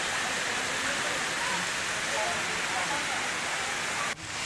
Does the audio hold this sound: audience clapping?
no